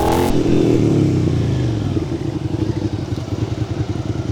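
A used 2019 Suzuki SV650X motorcycle engine roars loudly while riding, then settles into a throbbing, pulsing idle-like rumble, close and with no talking.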